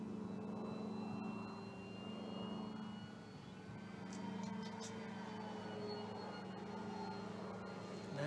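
A 1700 mm Corsair RC model airplane flies overhead at altitude, its electric motor giving a steady droning whine that swells and fades slightly as it passes, with light wind noise and no talk.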